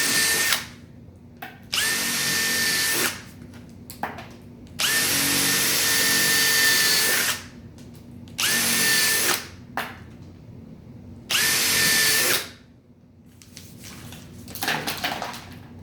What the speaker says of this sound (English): try not to drill away your numbers